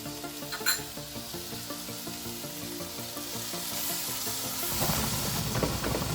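A spoonful of ginger garlic paste fries in a hot pan with a steady close sizzle and crackle that swells louder near the end, with light stirring.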